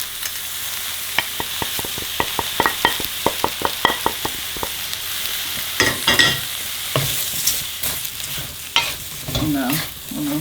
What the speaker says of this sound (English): let this fry in the butter and the oil for at least 2 to 3 minutes